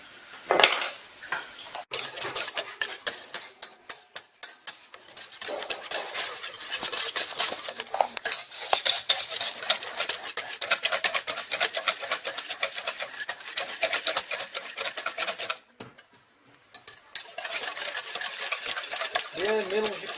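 Flour and eggs being beaten together in a bowl for lemon and chocolate macarons: rapid, close clinking and scraping of a utensil against the bowl, continuous with a short pause near the end.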